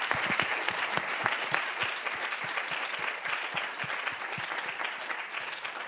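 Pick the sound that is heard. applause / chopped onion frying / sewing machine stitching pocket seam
applause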